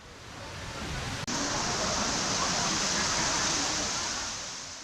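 A waterfall in Luang Prabang, Laos pours as a continuous broad hiss and roar, steady and close, with one brief dropout early on.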